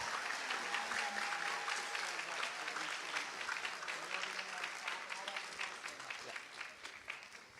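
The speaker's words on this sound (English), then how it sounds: "Come on, round of applause." Loud, sustained applause from a large audience at a 2024 graduation ceremony at GEMS American Academy Qatar, dense clapping rolling steadily throughout and easing only slightly toward the end.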